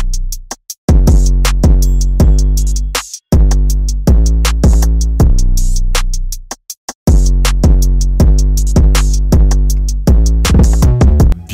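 Heavily saturated hyperpop or rage trap drum pattern programmed in FL Studio 20, played solo: loud, distorted booming kicks and crisp hits in a driving loop, with brief gaps of silence between phrases.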